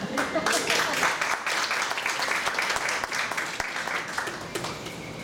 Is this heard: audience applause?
yes